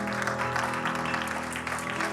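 A church congregation applauding loudly and continuously as a dense crowd, with sustained musical tones underneath.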